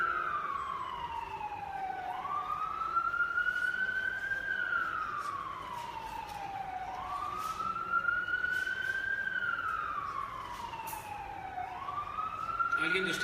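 A police car siren passes outside, wailing in slow rising and falling sweeps that repeat about every two and a half seconds, steady and moderately loud, heard alone without talk.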